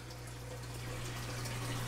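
Water pumped up from an aquarium sump, the filtration for a 120-gallon tank, makes a steady low hum with constant splashing and trickling, close and unbroken throughout.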